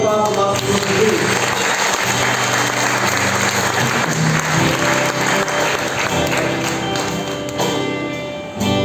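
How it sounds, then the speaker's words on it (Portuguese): A church congregation claps together during a Sunday evening service, loud sustained applause running throughout with crowd noise and voices mixed in beneath it. "Uma salva de palmas ao nosso Senhor Jesus."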